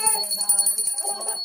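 A small brass puja hand bell rings steadily during a Karva Chauth evening worship at home, bright ringing tones repeating quickly and filling the short stretch, with faint voices beneath.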